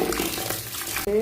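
Bathua and mustard greens being washed by hand in water in a big pot, close splashing and sloshing with a brief pause near the end before water swirls again.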